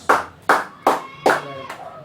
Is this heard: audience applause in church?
yes